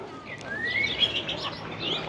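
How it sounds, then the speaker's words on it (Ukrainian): Birds chirp and warble softly in a quiet Alpine lakeside town near Sankt Gilgen, Austria, with faint scattered calls over a low outdoor background. "Пташки співають."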